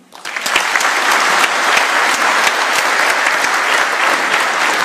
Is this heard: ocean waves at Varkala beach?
no